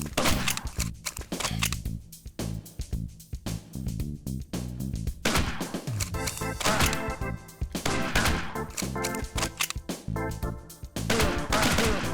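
Rapid gunshots from the Point Rescue light gun arcade game, with fast sharp shots in quick runs and short pauses, loud and close over game music and effects.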